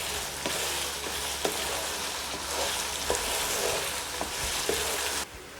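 Chicken fries in ghee for egg chicken fried rice, giving a steady, close, loud sizzle with occasional soft clinks of stirring and no talk.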